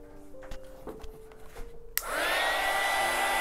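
A handheld hair dryer drying the top coat on a decoupage piece. It starts with a sharp click after a few faint knocks, then holds a loud, steady whir with a whining tone that stays close and constant.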